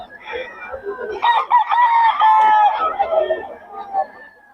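Rooster crowing with a long drawn-out call, mixed with clucking from fowl, close and fairly loud; voices talk over the birds.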